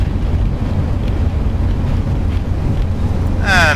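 Steady low roar of a Flight Factor Airbus A320 touching down and rolling out in X-Plane 11, a continuous rumbling wash of engine and runway noise ending in a brief high whine.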